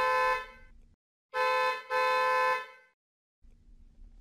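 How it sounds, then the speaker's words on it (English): Loud car horn honks, three blasts of varying length with short gaps, close by, followed by a faint low hum. "A car's honking."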